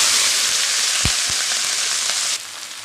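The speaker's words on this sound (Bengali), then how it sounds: "বাঁধাকপিগুলো দিয়ে দিলাম" Shredded cabbage drops into hot oil with cumin seeds, crackling into a steady, loud sizzle with a couple of soft thuds early on, easing slightly near the end.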